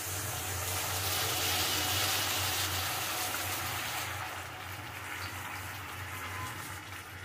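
Hot water poured onto fried spice masala in a pan for a Bengali hilsa fish curry, a loud continuous rushing hiss and bubbling that eases and thins after a few seconds.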